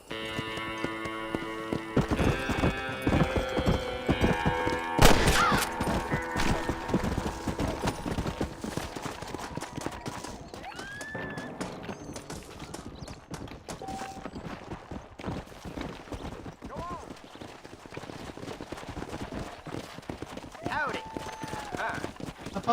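Horse hooves clip-clop steadily in the video game Red Dead Redemption, a regular rhythmic trot running throughout beneath game music and sound effects, with a voice talking over it.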